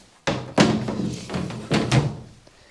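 Door of a Redcape Hydrobath Pro dog bath being handled, giving several hollow thunks and knocks in a short uneven sequence, close and fairly loud.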